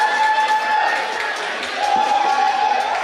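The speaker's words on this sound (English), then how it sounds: "On the second place, coming from Great Britain, your applause for Thais" A crowd applauds and cheers at the podium ceremony of a European Cup BMX race in Verona, a steady loud outdoor roar with a few whoops. A sustained tone runs under it and no words are clear.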